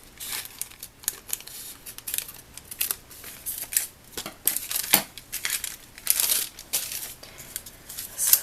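Scissors snipping a washi tape circle out of paper in a notebook craft, close and fairly loud, a busy run of crisp cuts and paper crinkles repeating irregularly over several seconds.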